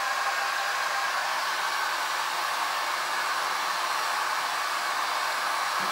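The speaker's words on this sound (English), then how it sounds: "My heat gun is up temperature again." Heat gun at working temperature blowing over a clear epoxy resin pour, a steady, even rush of blown air held close and unbroken throughout.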